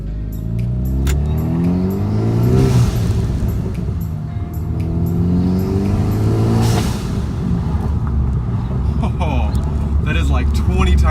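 A Hyundai Veloster Turbo fitted with a blow-off valve sound plate is driven on the road, its engine revving up and easing off close by over steady road and cabin noise.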